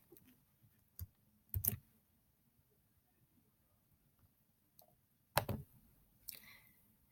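A computer mouse clicks a few times, sharp and close: single clicks spaced out, then a double click and a final soft click, faint and with no voices.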